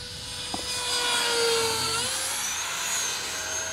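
A Viper Jet model with a 50mm electric ducted fan flies at half throttle, a high, steady whine that shifts slightly in pitch as it passes at moderate distance, heard alone without talk.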